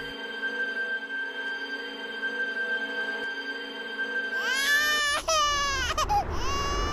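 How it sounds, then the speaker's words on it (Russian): A steady electronic tone gives way to a newborn baby's loud wailing cries, rising and falling in pitch, close and insistent. "Оглушительную тишину нарушил крик новорожденного."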